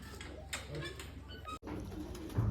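A pigeon coos softly in a loft, low repeated murmuring calls against a faint background, with a brief cut partway and a slightly louder bird sound near the end.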